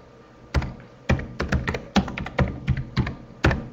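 Keys clatter in uneven bursts on a computer keyboard as someone types a provider order into an Essentris medical order-entry screen, with sharp close taps and brief pauses between strokes.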